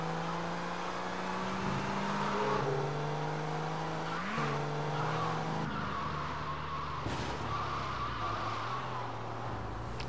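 Car driving in GTA: Vice City Stories, a steady engine drone with shifting pitch as it changes gears, some tire skid noise, continuous and fairly close, with no talking.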